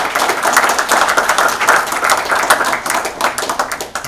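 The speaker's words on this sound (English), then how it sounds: "Round of applause for UI Centric." Dense, loud audience applause after a conference talk on UX and design budgets, a continuous patter of many hands clapping that fills the room and tapers slightly at the end.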